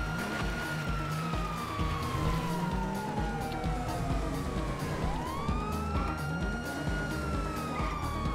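A police car siren in GTA 5 Online wails continuously with rising and falling sweeps, loud and close over a dense rumble of engine and traffic noise, with no talk.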